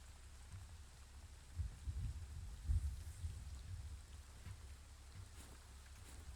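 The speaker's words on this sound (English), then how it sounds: "It's the rain," Steady rain patters in a game world, a soft continuous hiss with a few low rumbling swells in the middle, faint and without voices.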